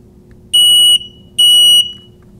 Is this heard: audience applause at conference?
no